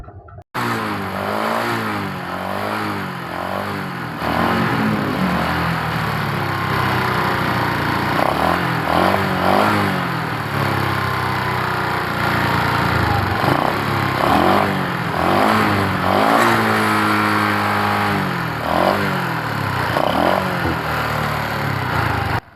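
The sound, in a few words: Honda Blade motorcycle engine started and revved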